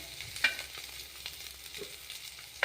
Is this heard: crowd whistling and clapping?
no